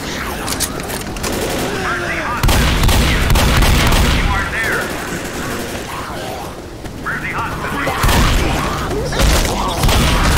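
Rapid bursts of gunfire crack and rattle through a Left 4 Dead No Mercy round, loud fusillades coming in waves with a pause midway, while players talk excitedly over the shooting.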